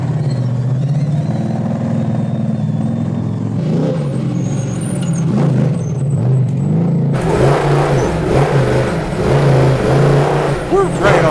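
A $750K big-block luxury pre-runner truck's engine accelerates with a close, throaty drone. It grows noticeably louder and rougher midway, with roaring surges to the end.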